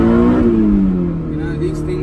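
A Honda S2000 AP1 with a six-speed gearbox drives off, its engine note rising then easing in a steady interior drone, close and loud, with someone talking over it.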